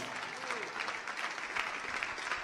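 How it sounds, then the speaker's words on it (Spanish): A crowd applauds steadily, a dense wash of clapping with some raised voices blended in, sustained throughout without pause. "Alguien le dé un aplauso a Dios."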